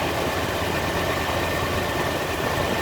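A 1972 Range Rover engine idles in a steady, even rumble with a dense noisy wash on top, close by and unbroken, no talk.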